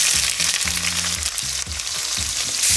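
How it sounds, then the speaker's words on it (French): Onions frying in oil in a pan for butter chicken, a steady close sizzling hiss with stirring throughout, no talking. "On va faire revenir les oignons dans de l'huile."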